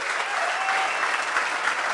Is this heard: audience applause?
yes